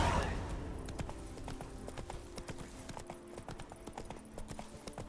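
Horse hooves clip-clop steadily at a gallop in the video game The Witcher 3, a quick even rhythm running throughout, with a voice speaking briefly at the start.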